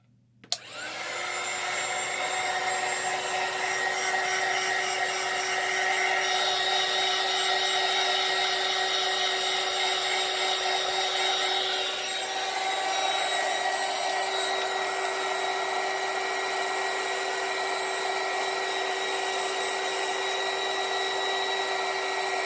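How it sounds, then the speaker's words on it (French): A heat gun blows hot air for embossing, a loud, steady whirring hiss that starts abruptly and runs unbroken for over twenty seconds, with no voices over it. "je viens avec le pistolet chauffant"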